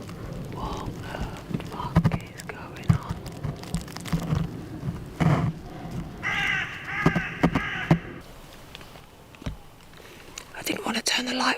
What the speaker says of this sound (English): A rush of crows flew off in the distance.